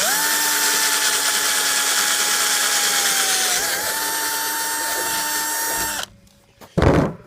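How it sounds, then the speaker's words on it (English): A power drill bores a hole in a 55 gallon drum, a loud steady whine with a pitch dip midway, then stopping abruptly, followed by a brief clatter. "just drill a hole"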